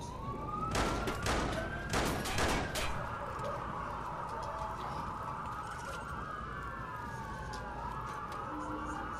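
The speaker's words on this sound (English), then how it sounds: "Why are the cops shooting me for no reason?" Police open fire in the Watch Dogs video game, a quick run of sharp gunshots early on over wailing, sweeping police sirens that keep going alone after the shooting stops.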